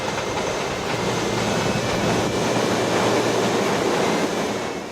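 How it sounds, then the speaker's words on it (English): A train rumbles past close by, a loud continuous roar with a low steady drone that holds for the whole stretch and eases slightly at the end. "Whoops, there's another train."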